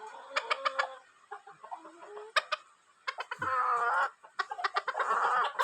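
A hen clucks after laying an egg, loud and near, in quick bursts of sharp, rising cackles separated by short pauses, with rougher, longer calls toward the end.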